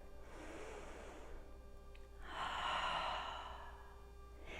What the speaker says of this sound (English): Let's take one more round of breath here.